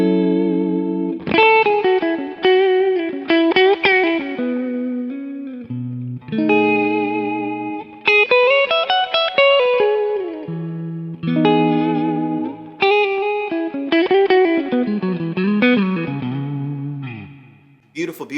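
Clean electric guitar played through a Kemper String Singer NBR2 amp profile, bluesy chords and single-note lines ringing out loud and sustained, with phrases separated by brief pauses and no talking.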